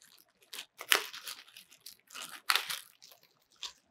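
Defrosted frozen bagel torn apart by hand, with a few crisp tearing and crackling bursts, two of them louder, separated by short quiet gaps, close and alone with no talk.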